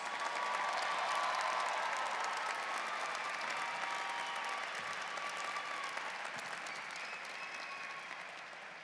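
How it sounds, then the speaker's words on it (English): Sustained applause from a large audience for doctoral degree recipients at a university commencement ceremony, a dense, steady roar of clapping that holds for several seconds and slowly fades toward the end. "Please give a round of applause to our doctoral degree recipients."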